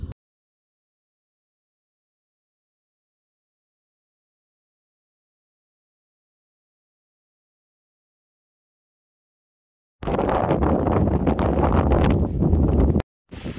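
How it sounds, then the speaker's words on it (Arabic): Strong wind gusts in northern Baysh, Jazan, during a storm: after a long stretch of silence, a loud, rough burst of roaring, buffeting wind lasts about three seconds, then cuts out abruptly. "اللهم إنا نسألك خير هذه الرياح، خير ما فيها، ونعوذ بك من شرها وشر ما فيها"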